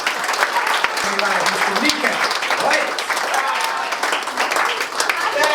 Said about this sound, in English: As far as round of applause go, that was mediocre at best